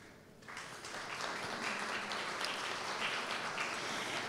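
Audience applause at a formal Mexican government morning event on rights for children with disabilities, a dense, steady patter of clapping that swells in after a quiet start and holds loud and continuous.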